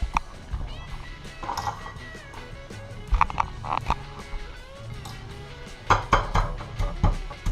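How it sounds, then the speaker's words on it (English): Scallion being beaten for Jamaican rice and peas, giving a series of irregular knocks and clatters against a kitchen surface, moderately close, with faint background noise between the hits. "I'm going to beat the scallion a little to get out some of that juice."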